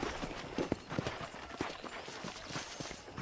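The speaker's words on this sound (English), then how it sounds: "I picked out a fine horse for you." Steady clip-clop of horse hooves walking at an even rhythm, fairly close, with faint background ambience and no speech, in the video game Red Dead Redemption.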